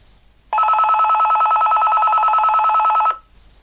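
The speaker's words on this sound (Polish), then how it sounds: "Możemy sobie wybrać taki dzwonek i Dzwoni to jak telefon praktycznie." A Retevis RT649 PMR walkie-talkie sounds its call alert, a loud, close electronic trill that warbles rapidly like a telephone ring for about two and a half seconds, then stops abruptly in near silence.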